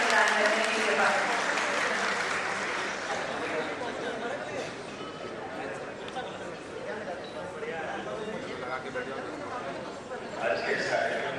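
Audience applause for Chief Minister Dr. Mohan Yadav at the launch event of the Ken-Betwa Jal Kalash Yatra: dense, sustained clapping from a large crowd, steady and loud throughout, swelling slightly near the end.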